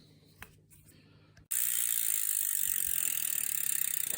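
Ratchet clicking as brake caliper bolts on a bicycle with a SRAM rotor are tightened, quiet sparse ticks at first, then a loud, steady rapid ratcheting whir close to the mic.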